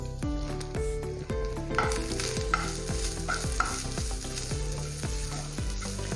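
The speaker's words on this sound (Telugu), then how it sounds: "పచ్చి కొబ్బరిని బాగా ఫ్రై చేసుకోవాలి" Fresh coconut frying in ghee in a pan for rava laddu, a steady close sizzle broken by regular scraping strokes of the stirring spoon.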